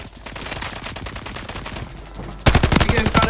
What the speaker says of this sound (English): He getting shot at by another team.